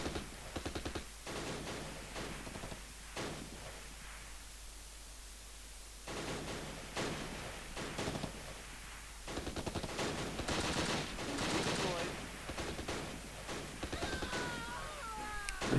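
Gunfire in the Close Combat video game, with bursts of rapid shots and scattered single cracks breaking out in clusters over a low steady background, some loud, some quieter and farther off.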